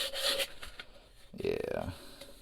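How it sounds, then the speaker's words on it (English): Sandpaper of 220 grit rasps against the inside of a plastic container for a DIY hydroponic build, in short rubbing strokes following a brief stretch of talking. "just get a little sandpaper. This is what, 220 grit, and just sand the inside just a little bit"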